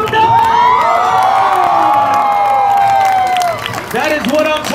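A large live crowd at a jumping stunt event erupts in loud, sustained cheering, whooping and shouting as the jumper lands, dense and close, tapering slightly before a fresh surge at the end.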